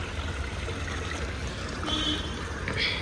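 Water trickles and flows steadily at the tank of Vateshwar Temple in Saswad, a constant close watery hiss with no talk over it.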